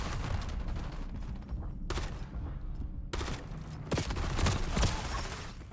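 Bursts of submachine gun fire in Black Ops 7 multiplayer, rapid automatic volleys broken by short pauses, loud and close with dense crackling shots.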